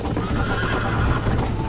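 Horse in the Red Dead Redemption video game giving a loud, close neigh lasting under two seconds, with a dense, noisy tone and no talking.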